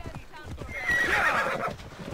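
A horse in Assassin's Creed Odyssey whinnies loudly over the rhythmic clip-clop of its hooves, while a player talks underneath and the hoofbeats carry on after the neigh fades.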